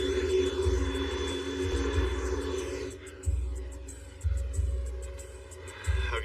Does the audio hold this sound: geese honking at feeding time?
no